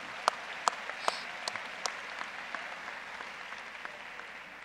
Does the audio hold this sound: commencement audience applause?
yes